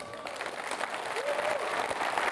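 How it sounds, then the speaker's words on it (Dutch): An audience gives a warm round of applause after a poem reading by Alkmaar's city poet, a steady patter of clapping that carries on evenly for a couple of seconds. "een hartelijk applaus voor de plaat"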